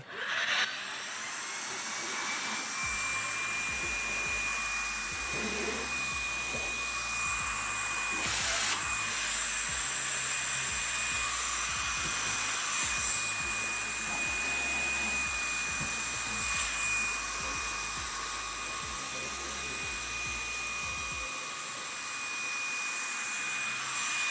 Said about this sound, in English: I'm just gonna wipe this and quickly run it through with the vacuum